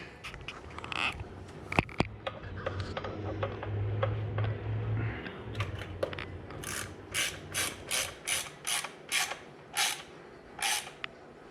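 A ratchet tightens the valve cover bolts on a Honda B20B engine in an EF sedan, giving quick evenly spaced clicking bursts up close, with scattered metallic taps and clinks before them.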